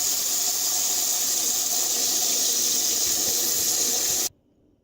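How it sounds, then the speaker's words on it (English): Tap water gushes steadily into a pot of eggs, a loud, close, even rush that stops abruptly near the end. "And then you fill it with water up until it's covering the eggs."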